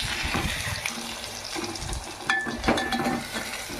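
Eggs for a spicy egg fry stirred in a pan with a little oil, salt already added: scraping stirs and soft sizzling, close up, with occasional clinks of utensil on metal.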